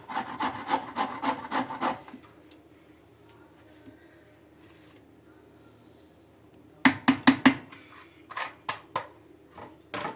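Rapid rhythmic rasping strokes of quince being grated, in quick bursts separated by a long quiet pause, close and fairly loud.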